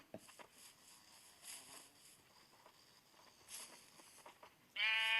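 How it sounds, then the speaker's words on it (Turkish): A Minecraft sheep gives a single clear bleat near the end, after a quiet stretch of soft game footsteps and faint ambient sounds. "Gel koyun"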